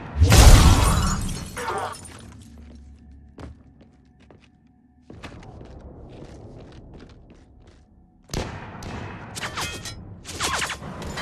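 Mass Effect 3 combat at Grissom Academy, a loud crashing impact up front, followed by scattered thuds and sharp shots, then a fresh flurry of cracking gunfire and debris near the end, with no talk.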